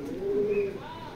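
Racing pigeon giving a single brief low coo up close, a steady tone lasting under a second amid quiet background, with no speech.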